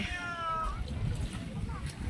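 A cat at the beach gives one short rising meow at the start, close and clear, followed by beach background noise and a faint second cry, while people talk nearby.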